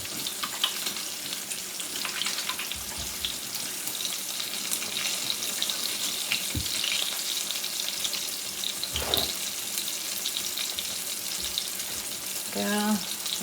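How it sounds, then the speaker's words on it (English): Tap water runs steadily into a kitchen sink as hands are rinsed quickly while raw fried chicken pieces are being prepared, with a faint sizzle-like hiss and a few soft clatters, no talking. "Wash my hands really quickly."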